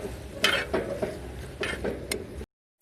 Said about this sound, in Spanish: Vamos a mezclar